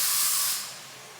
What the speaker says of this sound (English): And then I got some spray to like clean everything.